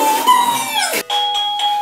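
A loud doorbell tune with a bright sustained tone, then a quick series of shorter chime notes follow in steady succession.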